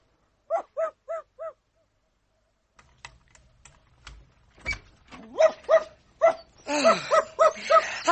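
A small dog barks several times in a quick series, then after a pause more barks and yaps follow in a livelier burst with a faint background rumble, fairly close and without talk.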